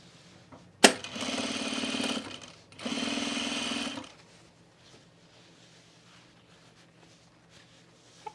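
A domestic sewing machine top stitches a seam on a men's utility jacket in two short runs of steady, rapid mechanical whirring, each lasting about a second, then falls quiet in a still room.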